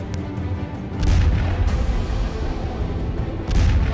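Hypersonic Kinzhal missile strike on an ammunition depot in Ivano, Ukraine, heard as loud, deep rumbling booms, with one heavy blast at about one second and another near the end over sustained low roar.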